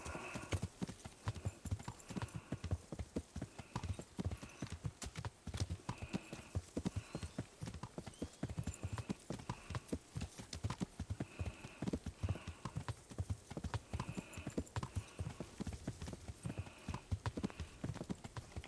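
Horse hooves clip-clop at a steady riding rhythm in Kingdom Come: Deliverance, the beats fast and even throughout, with an occasional whinny and faint ambient game sound.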